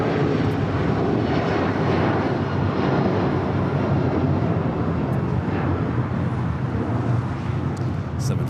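An Alaska Airlines Boeing 757 jet at LAX makes a loud, steady roar that fills the whole stretch without letting up.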